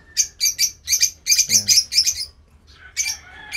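African lovebirds in a breeder's aviary give a loud burst of rapid, shrill chirps and squawks in clustered bursts, with a short pause before more calls resume.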